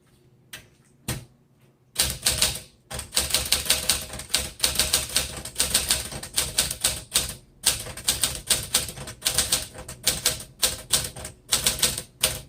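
Keys of a 1949 Smith Corona Sterling manual typewriter strike in rapid, uneven bursts with short pauses, each press a sharp, close mechanical clack, with no voices over it.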